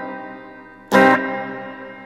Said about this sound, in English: Pretty spacey reverb.